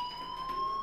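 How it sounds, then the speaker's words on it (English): A steady, piercing electronic fire alarm tone sounds in the Life is Strange video game. It holds unbroken at a constant pitch and moderate loudness, with no talking. "do you hear that fire alarm? That means you should be outside."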